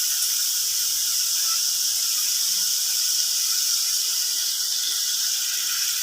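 Spice paste sizzles and hisses steadily in a hot pan for a Bengali doi potol curry, a continuous broadband frying hiss at moderate level throughout with no voices.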